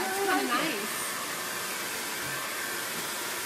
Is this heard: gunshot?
no